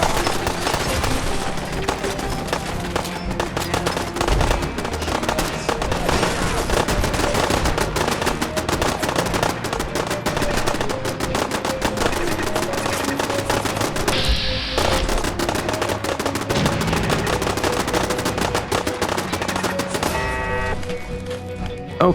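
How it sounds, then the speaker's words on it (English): Rapid, sustained gunfire from pipe pistols in Fallout 4 rattles almost nonstop, loud and dense bursts overlapping throughout, with a brief lull near the middle before the shooting resumes. "There's a lot of shooting going on right now."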